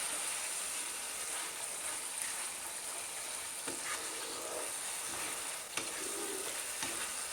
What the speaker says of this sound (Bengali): এবার মশলাটাকে মিডিয়াম আঁচে রেখে ঘুরিয়ে ঘুরিয়ে খুব সুন্দর করে কষিয়ে নিতে হবে